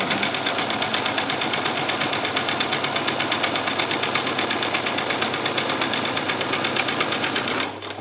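A sewing machine stitches a ruffle seam on a spring outfit, with a loud, continuous rapid mechanical clatter that runs unbroken for nearly eight seconds before cutting off.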